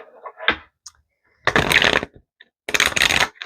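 Tarot cards being shuffled and drawn, three quick riffling bursts separated by short silences, with small taps and slides of cards in between, close and crisp.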